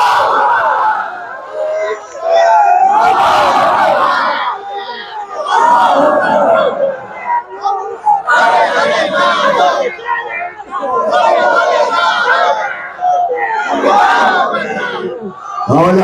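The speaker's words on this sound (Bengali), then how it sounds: "চট্টগ্রামবাসী সেরকম একটা তাকবীর দিতে পারবে? আল্লাহু আকবার বলো।" A large crowd at Anderkilla mosque in Chittagong shouting the takbir Allahu Akbar: loud, massed roars of voices repeated in several surges with brief pauses between, filling the space.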